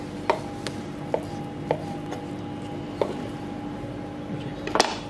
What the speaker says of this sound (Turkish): Etlerimizi julienne doğrayacağız.